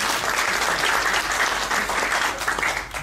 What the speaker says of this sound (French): Des applaudissements, bien sûr.